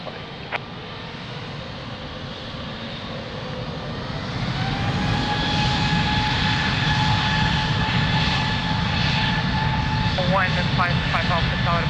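An airliner's engines spool up and roar down runway 02 at Lisbon Airport on takeoff, a steady broadband rumble with rising whine tones that grows louder after a few seconds and stays strong, with faint radio speech underneath.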